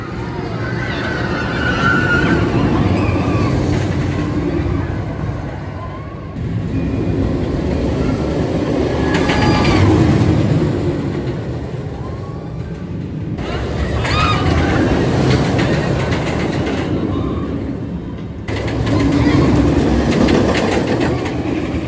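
Wooden RMC roller coaster Twisted Timbers at Kings Dominion, a sustained loud rumble and roar of the train running on track, swelling and easing in long waves, with rider voices mixed in.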